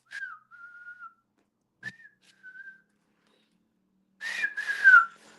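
Outdoors, a bird gives clear, thin whistled notes: two short phrases with gaps, then a louder, fuller burst near the end, alone without talk.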